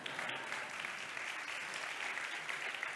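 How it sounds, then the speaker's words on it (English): An audience at an international conference applauds after a keynote speech, a continuous, even burst of many hands clapping at moderate volume throughout. "Just saying that the applause that you got"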